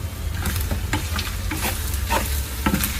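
Bicol Express being stirred as it cooks in a pan, a loud continuous sizzle with repeated scraping strokes of a spoon or spatula, close up with no talking.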